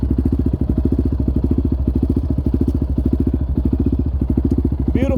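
A Yamaha Raptor 700R ATV engine runs steadily during a rural ride, a close, loud, rapid throbbing thump that rumbles evenly throughout, with a faint squeak right at the end.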